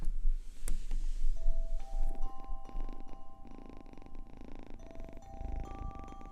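Rescued kittens purring close up, a soft continuous rumbling throb with a few light clicks and higher tonal sounds layered over it.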